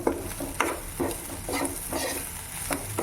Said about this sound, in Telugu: ఆకు సన్నగా కట్ చేసి కడిగేసి కట్ చేసుకున్నాం కదా ఇది వేసి కాస్త బాగా ఆకు మగ్గనివ్వాలి